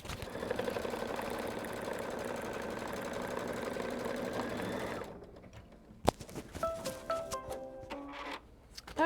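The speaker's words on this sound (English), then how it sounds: "So I'm going to do the tack down stitch." A Kimberbell quilt embroidery machine stitches a tack-down line, its steady, close mechanical whirring running for about five seconds before stopping and giving way to scattered clicks and faint handling noises.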